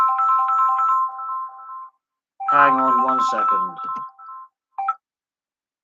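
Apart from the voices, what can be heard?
mobile phone ringtone, incoming call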